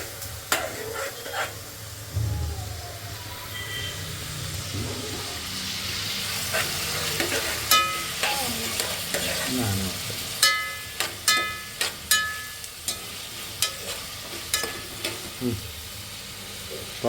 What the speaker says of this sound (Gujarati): હવે ટમેટા નાખશું અને ફૂલ હલાવવાનું છે.